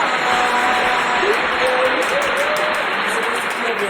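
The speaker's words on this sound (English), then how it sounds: "You're clapping for yourself." An interview guest is welcomed with clapping, a steady, dense wash of applause held at an even level throughout, with a voice speaking over it.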